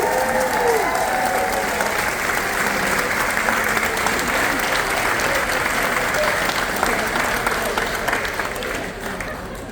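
A large audience applauds the Navy with steady, dense clapping that stays loud and close for the whole stretch, mixed with crowd murmur, at an onboard event on a cruise ship at sea.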